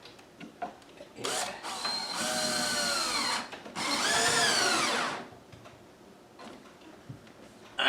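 A battery-powered drill drives screws into 2 by 3 wood for a dog whelping box, two sustained whirring bursts with rising and falling pitch, separated by brief clicks and handling knocks.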